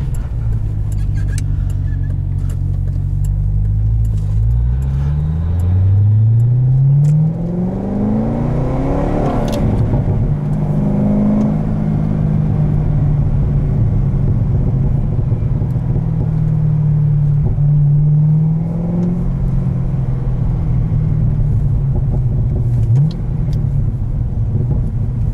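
A 2012 Chevrolet Corvette Z06 accelerates hard from inside the cabin, its engine rumbling and rising through the revs with shift drops, then settling into a loud sustained drone under way.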